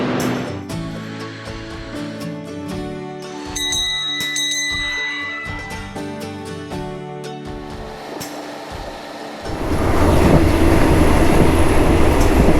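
A Red Line electric commuter train in Thailand rumbles and clatters along with a ringing bell tone, then the roar swells louder and steadier as the train picks up speed.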